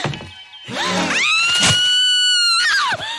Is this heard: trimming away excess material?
no